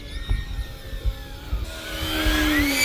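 An RC Apache AH-64 scale model helicopter flies close by, its rotor thumping in a rhythmic beat before a rising, whining motor tone takes over as it lifts off.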